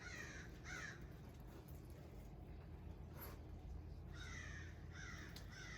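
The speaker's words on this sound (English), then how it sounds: "Boy, got some crows going on over there." Several crows caw in a few clustered bursts from some distance outdoors, faint and harsh over a low rumbling background during garden plant potting.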